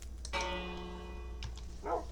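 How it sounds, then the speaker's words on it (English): A single bell tone in the game Lego Island rings out and sustains, clear and resonant, with a couple of faint knocks and a brief later sound. "Oh, there's the bell."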